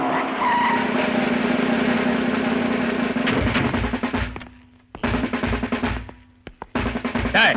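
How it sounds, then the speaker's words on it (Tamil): A big vehicle skids to a stop in a Tamil film scene: a loud, sustained tire screech under rumbling engine noise, then heavy low thuds and broken bursts of mechanical noise as it halts. "ஏய், பெரிய வண்டியா வருது"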